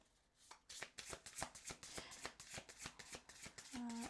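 Tarot cards being shuffled close up, a steady run of crisp riffling snaps and flutters. A short hum is heard at the very end.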